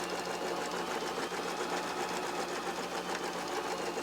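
A Bernette b33 sewing machine stitches fabric in a steady, loud, continuous mechanical whir with a fast rhythmic needle pulse, running without pause.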